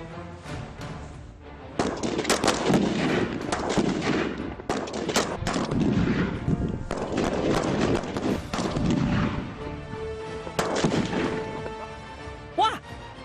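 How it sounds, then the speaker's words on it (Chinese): A military shooting competition between soldiers of an army combined brigade, with rapid bursts of loud gunfire and sharp cracks repeating through most of the stretch, mixed with voices and clanking. "我们第二环节对抗射击已经开始了哈"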